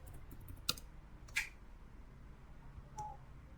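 A few sparse, faint clicks from a computer keyboard as an IP address is typed in quiet surroundings, with long pauses between keystrokes.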